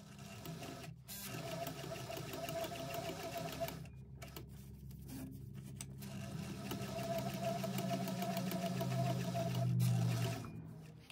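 A sewing machine top stitches through a fabric bag pocket with an eighth-inch seam allowance, a fast mechanical whirring chatter that runs continuously, briefly halts twice, then speeds up and grows louder before stopping.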